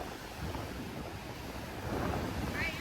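Ocean surf washes against the shore beside a fence along a coastal nature walk, a steady close roar of breaking water mixed with gusty wind buffeting the microphone that swells toward the end.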